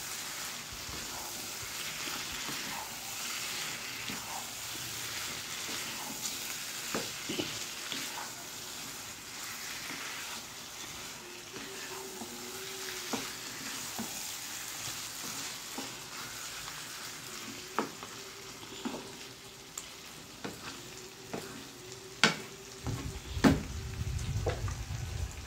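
Pieces of black chicken meat fry in a pan with a quiet, steady sizzle while a utensil stirs them, giving occasional soft scrapes and clinks, followed near the end by a louder rustling clatter.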